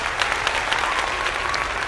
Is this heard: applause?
yes